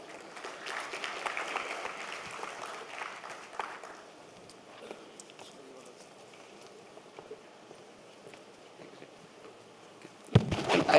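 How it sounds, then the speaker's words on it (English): An audience at a design conclave in India applauds on stage cue, a patter of clapping that is livelier at first and then thins to scattered claps, with a louder burst near the end. "Can we have a round of applause?"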